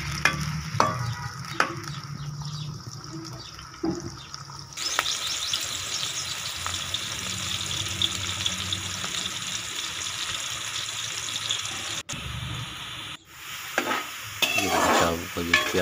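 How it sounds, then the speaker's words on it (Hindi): Onions frying in ghee in a pan give a steady, close sizzle with some early clatter of stirring, becoming denser and louder after a few seconds, with a couple of brief breaks near the end. "तो सबसे पहले घी में प्याज डाल देंगे और प्याज को हल्का ब्राउन करेंगे।"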